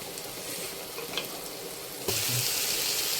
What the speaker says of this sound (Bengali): ওই হালকা করে জল দিয়ে আবার একটু কষে নিচ্ছি